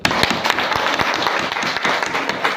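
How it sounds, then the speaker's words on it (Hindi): Audience at a network marketing training session in a primary school bursts into dense, steady applause, many hands clapping loudly and close for the whole stretch. "ताली तो बजना चाहिए सर"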